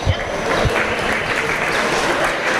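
Spectators at a youth swine show clap for a young exhibitor, a loud, even burst of applause from a crowd that carries on for the whole moment.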